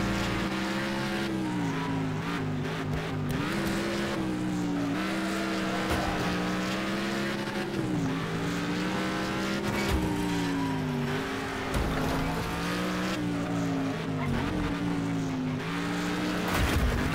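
Racing car engine in Next Car Game, a driving video game, revving hard and continuously, its pitch climbing and dipping with gear changes throughout.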